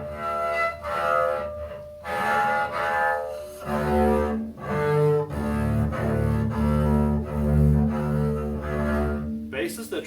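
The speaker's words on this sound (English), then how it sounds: "Your beginning bass sounds might sound like this" A beginner bowing a double bass, producing rough, uneven sustained notes with scratchy attacks and wavering pitch, several separate bow strokes in slow succession, close and fairly quiet.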